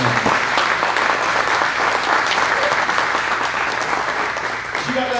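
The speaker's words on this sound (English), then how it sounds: "A single round of applause just for Miss Stacy and her involvement with Kingdom." A crowd claps steadily and warmly for Miss Stacy at a ten-year anniversary celebration, dense sustained applause from many hands that thins slightly toward the end.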